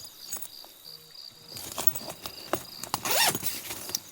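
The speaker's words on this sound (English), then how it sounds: "You can unzip the fabric panel, exposing the mesh so that you can have some airflow." A zipper on the fabric panel of a Eureka Timberline 2 A-frame tent is pulled open in short tugs, then one longer, louder zip, close up with faint crickets in the background.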